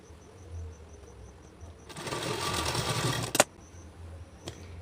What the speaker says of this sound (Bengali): চারিদিকে আমি লাইলিনটিকেও সেলাই করে নিয়েছি তো এবারে আমি টেকিন দিয়ে নেব